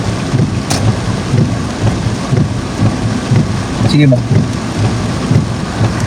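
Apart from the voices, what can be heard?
rain falling at a strawberry farm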